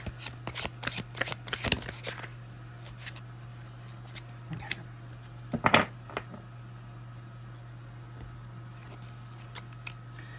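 A deck of tarot cards being shuffled in quick riffling bursts, close and fairly quiet over a steady background hum, with a few scattered card snaps later on.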